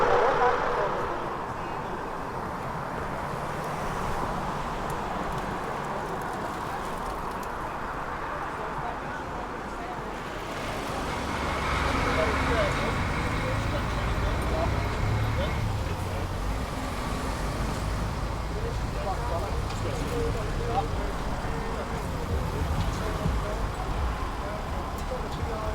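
Engine and road noise inside a moving vehicle during an arrest, a low steady rumble that swells midway, with people talking over it.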